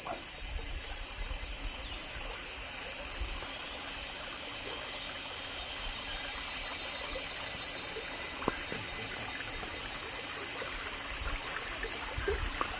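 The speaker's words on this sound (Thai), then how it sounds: "เสียงน้ำไหลครับ" Running stream water flows continuously with a steady bright hiss and trickle, unchanging and close by, no voices.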